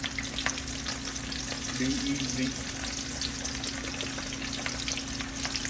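Whole bullhead catfish fry in hot grease with a steady, dense sizzle and bubbling crackle throughout, close and continuous, with a brief voice at the start.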